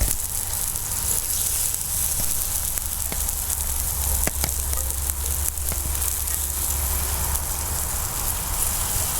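A steady hiss and bubbling sizzle of oxtail stew boiling in a pot, constant and fairly loud, with faint clinks now and then.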